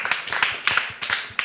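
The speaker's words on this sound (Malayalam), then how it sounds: "ജെസലിനൊരു ക്ലാപ്പ് കൊടുക്കാമോ?" A small group claps for Jesal at an Angel of the Episode announcement, sparse and uneven hand claps in short bursts, fairly close and moderately loud with no talk over them.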